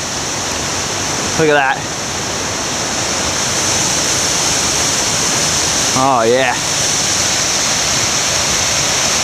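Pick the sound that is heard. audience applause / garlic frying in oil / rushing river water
rushing river water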